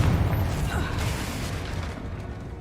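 The Confringo spell bursts in Hogwarts Legacy with a loud, low rumbling blast that fades over a couple of seconds, with no voices heard.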